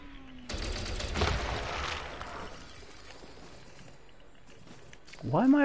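Gunfire in the space game Elite Dangerous on PS4, a dense rapid burst of shots over a rumbling engine bed that fades into low background hum, with a voice rising briefly at the end.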